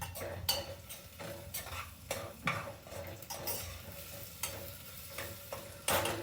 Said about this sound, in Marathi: असं होईपर्यंत आपल्याला परतायचं आहे